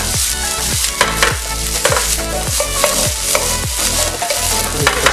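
Rice being stirred in a pan for black grilled rice, a steady loud sizzle with repeated scraping strokes of a utensil at a quick, regular rhythm, no talk.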